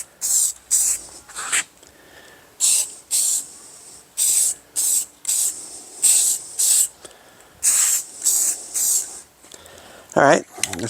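Short hissing bursts of spray paint lay a first coat on a part of an old Victrola talking machine, repeating in an irregular rhythm of roughly a dozen close blasts with brief pauses between.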